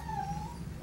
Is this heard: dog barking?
yes